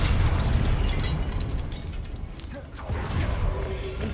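Confringo spell explosion in Hogwarts Legacy, a heavy booming blast with crackling debris, loud and close, easing briefly before a second burst and rumble.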